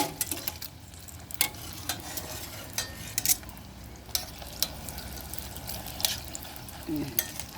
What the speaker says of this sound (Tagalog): Ganun lang yung pag-fry. Pag dark brown na siya, pwede na siya po.